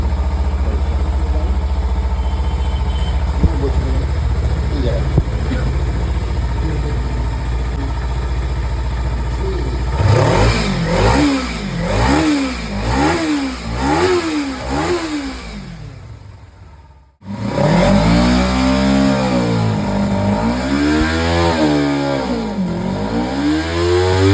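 A Kawasaki Ninja 300 motorcycle with a freshly cleaned throttle body idles steadily, then revs repeatedly in quick rising and falling blips, cuts out briefly, and returns with stronger, faster revving up close.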